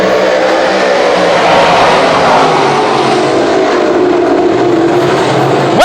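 A field of 358 modified race cars roars away at the green flag, a loud continuous wall of engine noise with a car whooshing close by at the very end.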